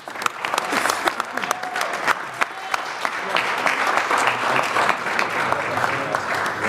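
Steady applause at a city council meeting honouring the St. Mary's girls team, dense clapping with sharp nearby claps throughout and some voices faintly mixed into the crowd noise.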